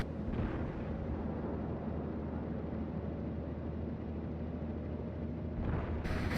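High explosive shells from World of Warships naval gunfire land as a continuous, dense rumbling roar of blasts that stays loud throughout, with a fresh burst swelling near the end.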